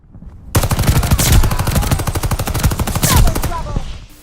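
Rapid World War II rifle fire in the video game Call of Duty: Vanguard, a fast string of loud, close shots in quick rhythmic succession, nearly continuous for about three seconds before trailing off.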